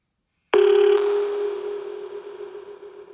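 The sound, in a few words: telephone ringing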